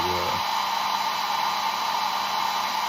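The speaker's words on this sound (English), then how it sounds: "I don't have this hair dryer in full blast" A hair dryer runs at reduced power, drying paint on a carved wooden cardinal ornament. Its steady close whirring airflow holds constant and fairly loud for the whole stretch, with no speech over it.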